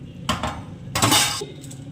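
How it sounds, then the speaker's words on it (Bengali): A metal lid comes off a cooking pot of mutton kosha curry with two bright clanking bursts, the second longer and louder, close by and with no speech. "এবারে আমি ঢাকনাটা তুলে নিলাম"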